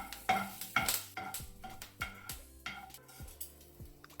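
Chillies, urad dal and curry leaves frying in oil in a pan, with repeated clinks and scrapes of a spoon stirring against metal over a soft sizzle, close and without talk.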